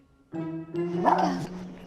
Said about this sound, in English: Joy, Merriweather, did you get a dog?